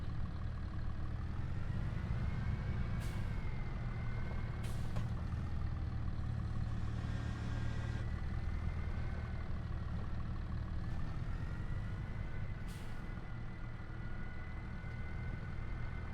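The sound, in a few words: tractor driving and turning in the video game Riverbend Springs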